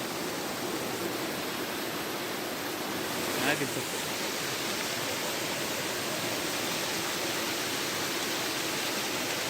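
A waterfall in the Konkan roars as a dense, unbroken wash of water noise, close and loud enough to swamp a brief spoken remark.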